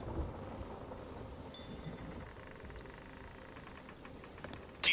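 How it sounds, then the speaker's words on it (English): Thunderstorm with steady heavy rain in the pirate video game Sea of Thieves, a continuous wash of rainfall with low rumbling thunder and a sharp crackling burst at the very end, no voices. "Deeper into the storm, into the maelstrom, where Calypso is."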